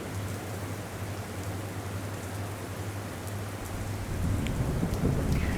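Heavy monsoon rain pours steadily across Gujarat, a dense hiss of drops on surfaces with a low rumble of thunder underneath, growing louder toward the end.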